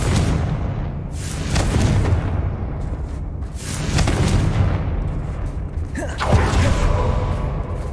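Spell explosions from Bombarda and Confringo in Hogwarts Legacy go off one after another, with several loud booming blasts and crackling bursts over a steady rumbling game background, and no talking.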